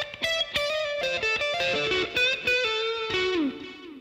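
A slightly distorted electric guitar plays a lick at a slow tempo, stepping through clear single notes and ending on a downward bend, alone with no talking.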